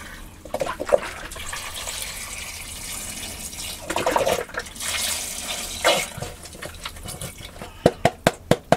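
Liquid from a 48-ounce container poured into a pot over frozen broccoli, a steady close splash and gurgle of pouring that runs several seconds before a few sharp clunks near the end; no one speaks.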